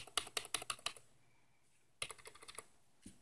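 Number keys on a computer keyboard's numpad are pressed in quick bursts: a run of about six crisp clicks, a short pause, then another rapid cluster and one final tap, close and fairly quiet with no talking.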